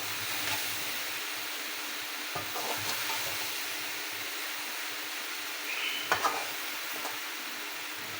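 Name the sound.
okra (bhindi) cooking on low flame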